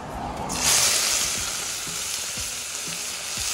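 Green seasoning hits hot oil in a frying pot for iguana curry and sets off a loud, continuous close sizzle, with faint stirring knocks underneath.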